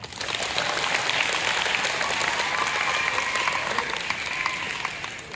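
A crowd applauds steadily, dense clapping filling the room for several seconds before tapering off slightly at the end.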